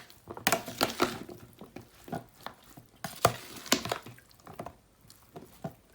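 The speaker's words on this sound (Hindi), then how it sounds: "और इनको नरम सी चमचा चलाएंगे, ज़्यादा ज़ोर की नहीं चलाएंगे इनको" A spoon gently stirs dahi bhalla, soaked lentil dumplings in yogurt, making soft wet squishes and light taps on the bowl in an irregular rhythm, close up with no talk.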